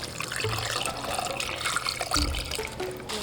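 A shower head sprays water in a steady rushing, splashing stream, close and fairly loud for a few seconds with no talking.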